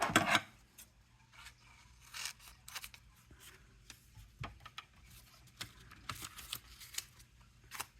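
Scissors snip through paper while a zine is assembled, a sharp loud cut at the start followed by scattered faint clicks and rustles of handling scraps nearby.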